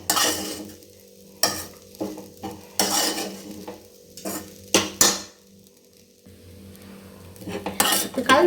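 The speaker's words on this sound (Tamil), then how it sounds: "கலந்து விட்டுக்கிட்டோம்." Egg kothu idly being mixed in a pan after cracked eggs are poured over the pepper-seasoned idly: repeated scraping and clattering strokes of a metal spatula against the pan, with a soft sizzle in between, close and fairly loud.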